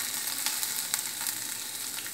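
Ginger frying in hot oil for a pongal tempering, a continuous close crackling sizzle with scattered sharper pops, no talking.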